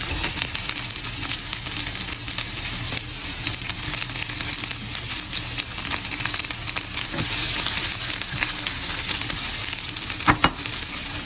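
Onions sizzle loudly in a pan for beef broccoli with oyster sauce, a dense continuous frying hiss with occasional stirring clatter, close up and alone.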